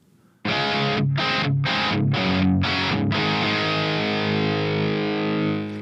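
Heavily distorted electric guitar through a Nembrini Audio 8180 metal amp, miked with a Royer R121, chugs five quick chords, then lets a thick, saturated chord ring out and sustain.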